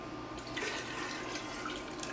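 Water pours steadily into a pot nearby, a continuous splashing gurgle at moderate volume with no voices.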